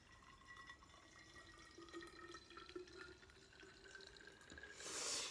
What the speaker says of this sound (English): Here we go, pouring the water in.